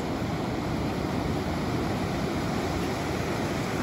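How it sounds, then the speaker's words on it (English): Steady ocean surf at a Sanibel Island beach at sunset on Christmas Day, a continuous broad wash of breaking waves with no distinct swells standing out, loud and unbroken throughout with no voices. "Enjoy the sound of those waves."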